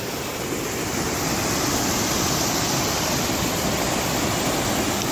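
Steady, loud rush of river water flowing beneath a newly built bridge near a hidden waterfall, a continuous broadband roar with no break and no voices.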